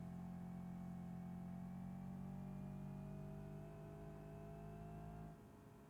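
A simulated car in BeamNG.drive runs hard through second gear on the Nürburgring, its engine a steady loud drone with harmonic whine that holds, then cuts off near the end.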